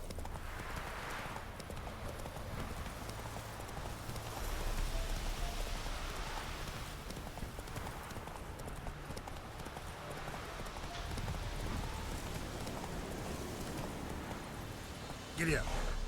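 Horse hooves clip-clopping at a steady pace in the video game Witcher 3, a continuous muffled rhythm with rain-like patter around it, moderately faint, with a brief voice near the end.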